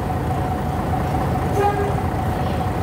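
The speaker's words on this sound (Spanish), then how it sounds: "Escuchen el motor abajo y el humo." The diesel engine of the La Plata university train rumbles steadily and loudly from inside the moving carriage, a dense low drone with a brief faint tone partway through.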